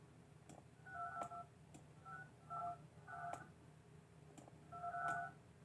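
Telephone keypad dialing tones in the office-building game Project Highrise, a run of short beeps in irregular clusters, quiet and clean with no talk.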